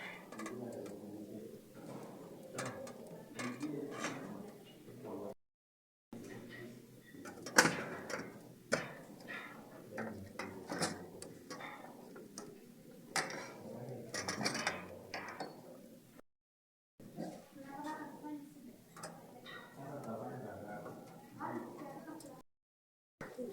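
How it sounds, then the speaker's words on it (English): A computer power supply unit being unscrewed from a desktop system case, with soft, irregular mechanical clicks and ratcheting ticks close by, partly under steady talking. "and now we unscrew."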